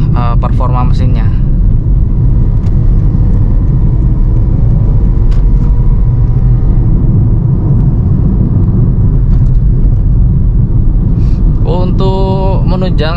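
Toyota Vios Gen 2 sedan driven on a mountain road near Cangar, Batu: a loud, continuous low engine and road rumble fills the cabin, with a person talking over it.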